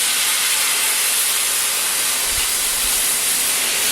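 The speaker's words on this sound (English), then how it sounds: "deglaze it with our red wine" A hot pan being deglazed with red wine gives off a loud, steady, close hiss of steam and sizzle throughout, with a couple of faint low thuds near the end.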